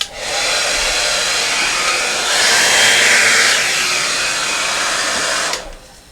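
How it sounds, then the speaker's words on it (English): A hair dryer blows across a turquoise acrylic paint pour, a loud steady close whoosh that switches on, holds for about five seconds with a slight swell, then cuts off abruptly. "let me grab my blow dryer"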